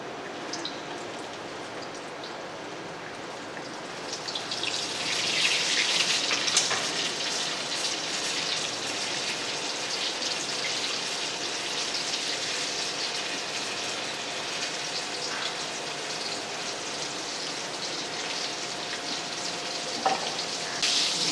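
Flour-coated chicken wings frying in hot oil, a steady bright sizzling hiss that swells as the pieces go in and then crackles on evenly, close and fairly loud with no voices.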